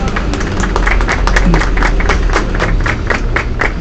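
An audience on a storytelling tour of the tram history in La Candelaria gives a round of applause, with fairly loud, close, brisk clapping that continues steadily throughout.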